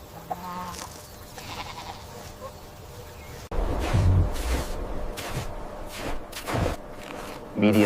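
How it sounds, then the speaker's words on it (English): A goat bleats several times on a farm, with loud, close calls that grow more frequent in the second half, along with some rustling and movement noise. "This is a goat."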